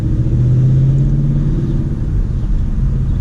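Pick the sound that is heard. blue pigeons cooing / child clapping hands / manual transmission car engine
manual transmission car engine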